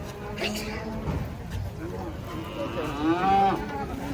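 A very large cow moos with a long, drawn-out low call near the end, over a busy outdoor background of people talking and shuffling.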